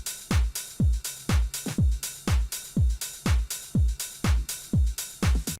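An electronic house drum loop plays a steady four-on-the-floor pattern, combining punchy kick, clap, hi-hats and ride cymbal. The loop repeats evenly and loudly with no talking.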